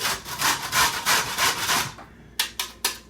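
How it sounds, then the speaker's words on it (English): Leftover bread rubbed against a metal grater in steady rasping strokes, about seven rhythmic scrapes close up, then a pause and a few sharper, separate scrapes near the end. "Now, back to the grating."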